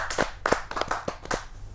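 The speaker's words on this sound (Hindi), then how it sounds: "जोरदार ताली।" A kavi sammelan audience claps at a poetry gathering, a sparse handful of distinct hand claps in quick irregular rhythm, fairly close, briefly and without talk.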